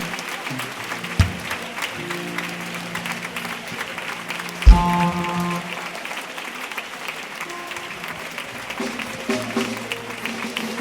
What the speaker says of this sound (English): Clap your hands and you pray.